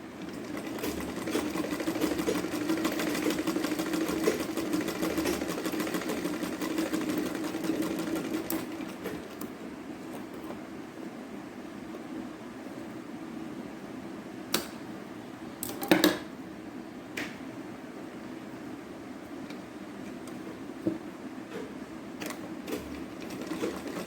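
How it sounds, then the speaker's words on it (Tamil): A sewing machine runs a steady, close whirring top stitch along the edge of thick blouse fabric for several seconds, then slows to quieter mechanical ticks and a few sharp clicks. "இந்த ஓரமாக ஒரு டாப் ஸ்டிச் ஒன்று போட்டுக்கிறோம்"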